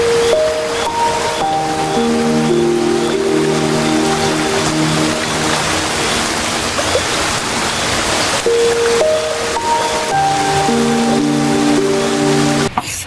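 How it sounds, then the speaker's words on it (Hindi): Heavy wind-driven rain pours during a storm at a wedding, a loud, steady broadband roar throughout, with a melodic tune playing over it. "ये देखो यहाँ तक हवा से ऐसे करके पानी आ रहा है"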